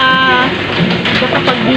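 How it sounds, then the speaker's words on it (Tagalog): Heavy rain pours down during a typhoon on a rainy Saturday, a loud, steady, dense hiss filling the whole moment, with a voice faintly present beneath the downpour. "Grabing ulan."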